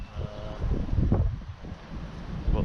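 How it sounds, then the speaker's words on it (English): Strong wind buffets the microphone beside the Rio Segura in Spain, a low, rumbling roar that surges and eases throughout. "Still very windy."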